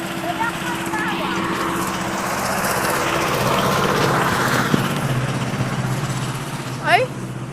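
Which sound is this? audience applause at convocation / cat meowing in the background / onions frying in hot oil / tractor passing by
tractor passing by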